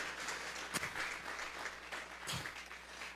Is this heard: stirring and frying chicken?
no